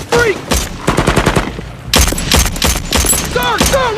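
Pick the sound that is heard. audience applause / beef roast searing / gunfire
gunfire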